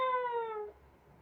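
A person imitates a cat's meow with a single short, clear, descending mew, close and fairly quiet, fading out after under a second.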